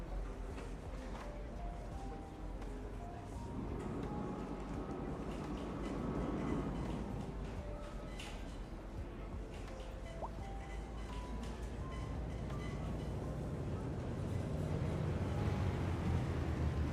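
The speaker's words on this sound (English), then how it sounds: "Where's the tram?" A city tram pulls in, its low rumble swelling steadily over a busy outdoor background and growing loudest toward the end as it draws near.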